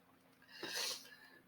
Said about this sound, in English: And sorry, I'm going to sneeze.